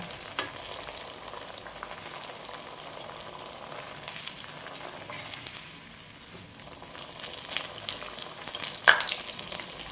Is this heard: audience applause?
no